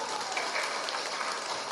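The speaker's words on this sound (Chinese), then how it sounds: "大家给他一个掌声好不好？" Audience applause for a Kuomintang legislator at a political rally, a steady dense wash of many hands clapping throughout, fairly loud and continuous with no talk.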